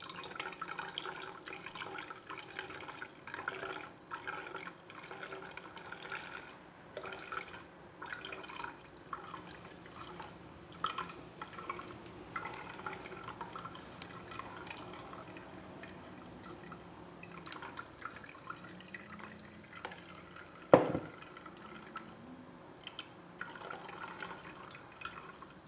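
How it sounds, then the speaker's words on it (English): Straining pineapple, cucumber and ginger juice: soft, close dripping and trickling liquid, irregular and quiet, with a brief sharp clink near the end. "So I'm just gonna finish up with the straining."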